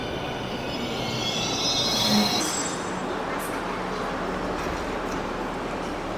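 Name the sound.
metro train arriving at station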